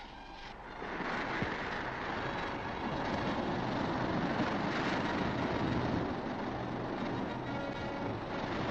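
Typhoon winds at sea off the Siamese coast, heard as a steady roaring rush of wind and churning water aboard a ship, continuous and moderately loud with no voices.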